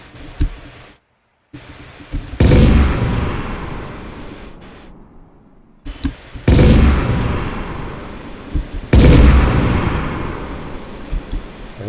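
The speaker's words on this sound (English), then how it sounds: "I think I'm getting the explosion sound when it's close up" Several loud explosion effects go off in an Unreal Engine game: one booming burst with a long rumbling tail, then two more heavy blasts separated by short silences, each fading gradually.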